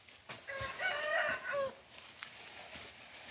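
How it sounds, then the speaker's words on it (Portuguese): Free-roaming chickens in an orchard with guava trees, giving a short burst of clucking and crowing-like calls from fairly close, then fading into quiet outdoor background. "minhas galinhas ali, gente, ó. Soltei as galinhas."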